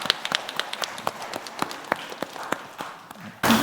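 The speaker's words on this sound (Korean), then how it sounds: "우리 격려하면서 박수 한번 해주십시오." A church congregation at an Easter Sunday service gives scattered, uneven applause. Individual claps ring out fairly close and sparse at first, then a burst of louder noise comes at the very end.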